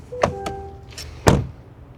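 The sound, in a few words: closing the door of a 2026 Chevy Tahoe LS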